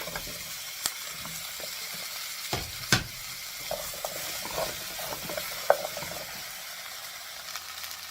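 Carrots and potatoes are sautéed in a pan for a chicken katsu curry, with a steady low sizzle punctuated by sharp, irregular knocks and scrapes of a spoon against the pan.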